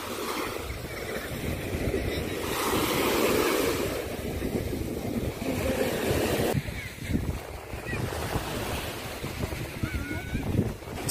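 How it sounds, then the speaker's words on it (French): Sea waves washing onto a calm seaside shore on a holiday outing, a steady broadband surf roar with swelling surges, plus some wind buffeting the microphone throughout. "En vrai, aujourd'hui, il y a plus de vagues qu'hier."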